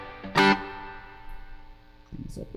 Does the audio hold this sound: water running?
no